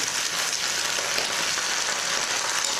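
Pork stir-fried with ginger and spring onion in a pan over high heat, a dense, even sizzling hiss that carries on steadily with no voices.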